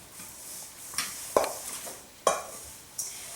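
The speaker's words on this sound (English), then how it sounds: "can you go ahead and stir all of that together" A spoon stirs an oats mixture with canola oil in a bowl, giving soft scraping swishes and a few sharp clinks against the side, spaced irregularly and heard alone at close range.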